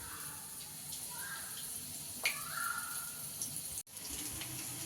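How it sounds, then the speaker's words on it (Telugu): Battered onion rings fry in hot oil, giving a soft continuous sizzle with a brief louder crackle as a ring is dropped in, followed by a short clunk. "దీన్ని ఇప్పుడు ఫ్రై చేసుకోవాలి. ఒక్కొక్కటి వేసుకుందాం."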